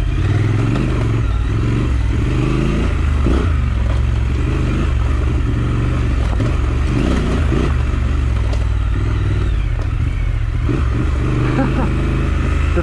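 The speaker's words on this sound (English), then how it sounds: "Now, I'll be quiet, you guys can listen to the engine." A newly bought motorcycle idles loudly and steadily close by, with its deep engine rumble and some clatter continuing throughout, and occasional throttle blips under a faint background voice.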